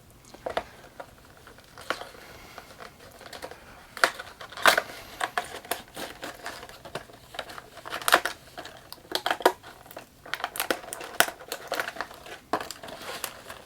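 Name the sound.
cutting open plastic packaging of Mego Star Trek Kirk figure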